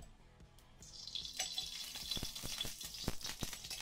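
Coconut oil poured into a pan for a cabbage, coconut and egg stir-fry, heard as a faint, steady hiss and trickle with small taps and clicks scattered through.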